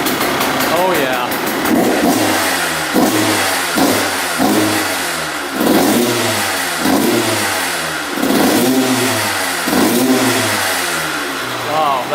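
A Kawasaki dirt bike engine runs close by, revving repeatedly in a steady rhythm of rising and falling bursts before dropping back to idle, with a voice talking over it.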